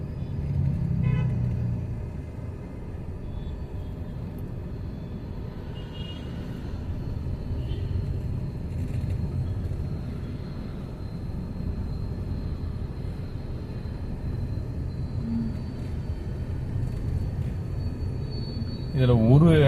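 Busy city road traffic in Coimbatore rumbles on without a break, with a constant roar of passing vehicles and a brief horn-like tone near the end.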